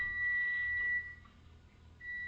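A kitchen timer alarm for cooking broccoli sounds as a thin, steady electronic beep tone that holds, drops out briefly, then resumes, fairly soft against a quiet room.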